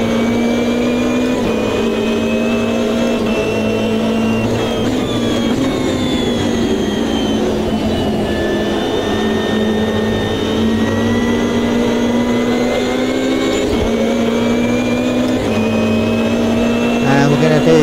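A Ginetta GT3 race car in the Automobilista 2 sim at the Goiania external circuit, with a steady engine drone that rises and falls through gear changes along with tyre and road noise, under occasional talk.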